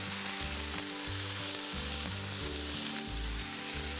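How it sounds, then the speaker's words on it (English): Frozen green beans hit a pan with toasted garlic, a loud steady sizzle and crackle that fills the clip, with no one talking over it. "you're gonna hear the sizzle now."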